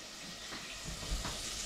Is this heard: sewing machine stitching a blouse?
no